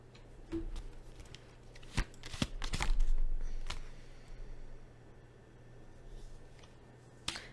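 Tarot cards being shuffled by hand, soft riffling and flicking in scattered bursts with a few sharp snaps, close and quiet over a low background hum.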